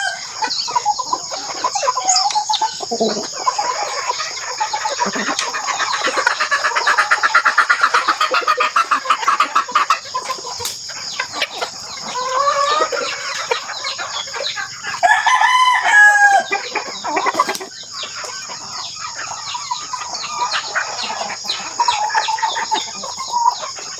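A flock of free-range farm chickens clucks continuously nearby, with a rooster crowing partway through over a steady high-pitched hiss.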